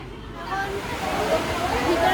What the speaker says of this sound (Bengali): কিরম ঝমঝমিয়ে বৃষ্টি হচ্ছে